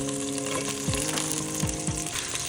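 Onions and curry leaves fry in a pan for a biryani, giving a dense, close crackling sizzle with a few quick sharp pops and spatters on top.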